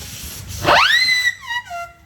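A loud steam traction engine whistle bursts in with a hiss at a historic vehicle gathering, sweeping up to a sustained shrill tone, then two shorter falling toots follow.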